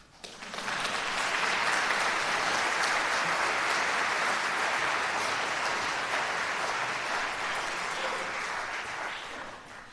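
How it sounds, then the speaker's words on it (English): Concert crowd at a band finale bursts into sustained applause, swelling quickly after a quiet start into a loud, even roar of many clapping hands that lasts several seconds before easing slightly. "Now that would be a real good place to applaud"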